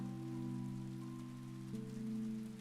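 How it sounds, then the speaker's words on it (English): Rain patters steadily in the dinosaur farming game Paleo Pines, a soft continuous hiss beneath sustained, calm background music that shifts chord partway through. "it's raining, so the crops are all watered today"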